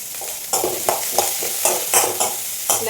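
Beans fry in a pan with curry leaves, sizzling steadily while a spoon stirs them in a run of regular scraping strokes, close and clear.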